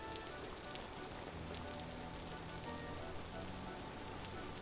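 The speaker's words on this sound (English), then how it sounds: "I don't know if you can hear it because of the rain," Steady rain falling in the survival video game Vintage Story, a constant even hiss of drops pattering on surfaces that fills the whole stretch at moderate level, with no voices.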